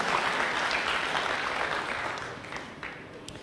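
A church congregation applauds during a sermon, steady full clapping that fades slightly toward the end, with no talk over it.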